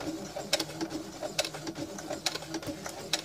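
A sewing machine stitches through thick leather for a handmade wallet, its rapid mechanical chatter punctuated by sharper periodic clacks, close and moderately loud, with faint speech in the background.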